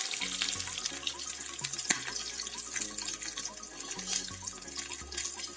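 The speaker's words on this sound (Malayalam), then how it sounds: "ഇനി ഇതിലേക്കിട്ട് പൊരിച്ചെടുക്കാം." Potato chicken lollipops fry in hot oil, a continuous close bubbling and crackle with intermittent sharper pops over a low steady hum, with no speech.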